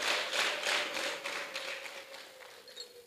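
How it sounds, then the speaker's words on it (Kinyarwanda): Faint, fairly steady hand clapping from an audience at a Rwandan gathering, soft rhythmic slaps repeating over a low hum and fading slightly toward the end. "Nimubamera amashyi."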